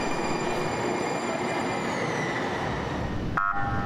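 A San Diego trolley rumbles into a station with steady rail noise and a thin high motor whine, and a brighter tonal squeal or chime appears near the end.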